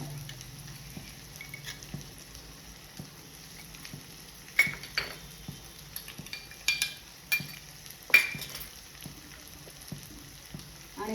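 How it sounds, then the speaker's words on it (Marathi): Spices and homemade garam masala roasting in oil in a pan for a Satara-style egg thali, a soft steady sizzle broken by scattered metallic clinks and scrapes of a spoon stirring against the pan. "आता हे मसाले आपल्याला चांगले भाजायचे असे छान छानपैकी बघा तेल सुटेपर्यंत भाजायचे"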